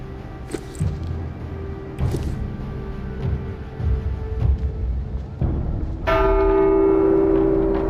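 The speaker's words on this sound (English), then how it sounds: "Who the fuck rang the bell?" A church bell rings in the video game The Walking Dead: Saints and Sinners, several resonant tolls, the last one loud and close with a long sustained ringing decay, over game ambience.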